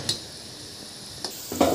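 Atta ghati dough snacks fry in hot oil with a soft bubbling sizzle. A few brief clinks or stirring taps break in, and a louder burst of frying noise comes at the end.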